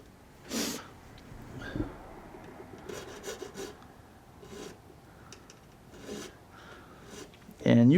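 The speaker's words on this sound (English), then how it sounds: "this is actually one of my files that I use to file frets" A metal fret file rasps in short, separate strokes to round a guitar's fret and nut edges, close and fairly quiet, with breathing and faint handling between strokes. A brief tonal voice sound comes at the very end.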